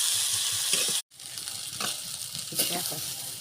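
Leafy greens fry with garlic and salt in a pan, giving a loud, continuous sizzle that cuts out briefly before resuming with bursts of crackle.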